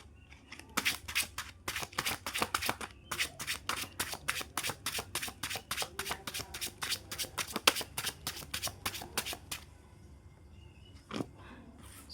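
Tarot cards are shuffled by hand in a quiet room, a long run of crisp, rhythmic riffling flicks repeating for about nine seconds, then pausing before one last soft shuffle.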